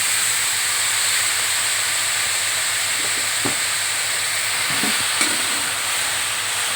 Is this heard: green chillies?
yes